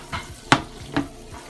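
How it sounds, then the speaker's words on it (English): Garlic and olive oil sauce tossed in a pan for spaghetti aglio e olio, giving a few soft sizzling swishes and a sharp clack of the pan near the middle, all close and moderately loud with no talking. "Let me just give it a little toss here."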